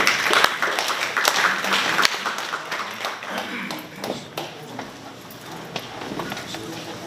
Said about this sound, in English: May I ask that we please give him again a big round of applause